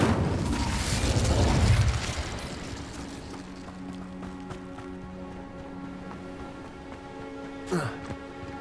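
Incendio fire spell cast in Hogwarts Legacy: a loud, broad burst of roaring flame for about two seconds, then fading into a low hum with faint clicks and a brief whoosh near the end.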